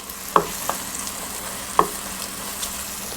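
Red onion and garlic fry in a pan for a mushroom sauce, a low continuous sizzle with two sharp knocks and a few lighter taps as a spoon stirs, close by and without talk.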